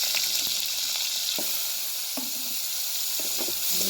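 Onions sizzle and crackle as they fry in oil left from frying meat, a steady close hiss with stirring scrapes and clicks while chicken noodles are being cooked.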